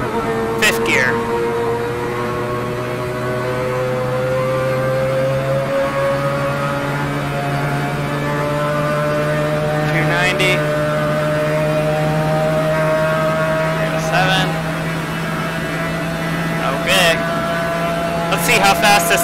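A car engine pulling hard through the gears, a loud close drone whose pitch climbs steadily and dips briefly at each shift, with sharp clicks between gears and a voice talking over it.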